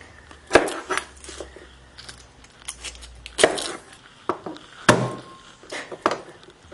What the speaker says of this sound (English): smashing it like that is a great way to get rid of all the peel